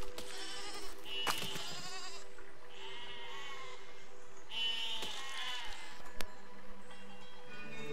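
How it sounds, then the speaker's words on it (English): Sheep in the game Besiege bleat repeatedly, several wavering, nasal cries at close range spaced a second or so apart, with sharp clicks and clanks in between. "Oh, we have a sheep friend attached to our grabber."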